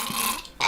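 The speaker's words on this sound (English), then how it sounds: "I just burped and it sounded like a Roblox death sound." A short, guttural burp of under a second, close and fairly loud, with a rough low croak followed by a brief louder burst at the end.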